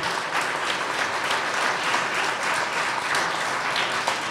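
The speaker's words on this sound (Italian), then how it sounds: "Un applauso a Camilla, se è qui tra di noi." An audience at an Italian art photography award ceremony applauds steadily, dense clapping filling the room for several seconds without a break.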